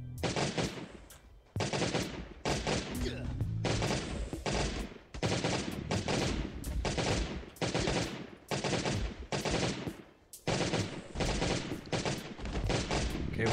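Sustained bursts of gunfire from guns in the zombie survival game Last Day on Earth: Survival, rapid automatic volleys repeating in long loud runs broken by brief pauses, with no talking.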